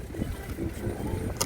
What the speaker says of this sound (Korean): 바람이 계속 분다